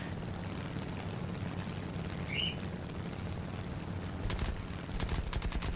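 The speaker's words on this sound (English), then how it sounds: "I'm just trying to empty the rounds out so I can just go." An A6M2 fighter in War Thunder fires its guns over a steady engine drone, with short rapid bursts of gunfire rattling near the end.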